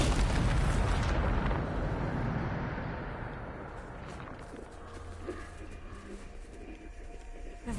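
A Bombarda blast spell in a magic video game erupts as a loud, rumbling explosion that fades over a few seconds into quieter scattered debris and small pops.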